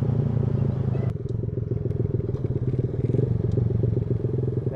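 Triumph Daytona motorcycle on the road with the throttle closed, engine braking with a steady low rumbling drone and a faint mechanical clatter, close and continuous throughout with no talking.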